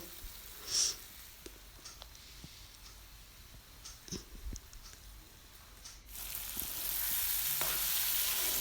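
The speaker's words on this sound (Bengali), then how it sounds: "নাড়াচাড়া করে পেঁয়াজগুলি ভালো করে ভেজে" Sliced onions fry in a pan while being stirred, a quiet sizzle with occasional scraping taps that grows louder and denser toward the end.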